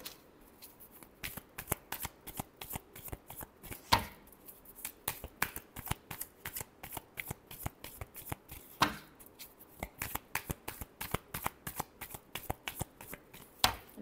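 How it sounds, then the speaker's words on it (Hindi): Tarot cards are shuffled by hand in rapid riffling bursts with sharp snaps, repeating throughout, close and clear with no speech. "last shuffle"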